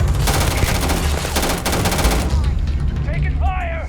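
Rapid automatic gunfire in the video game Starfield, a loud close burst of repeated shots that rattles on and then tails off under a game voice and electronic chirps.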